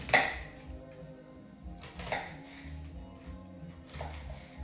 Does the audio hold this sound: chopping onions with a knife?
yes